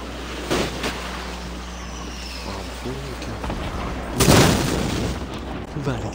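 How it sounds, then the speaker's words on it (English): Gunshots in a Fortnite match ring out as a few sharp, separate reports, one heavier burst standing out, over a steady game backdrop with speech throughout. "Who's shooting?"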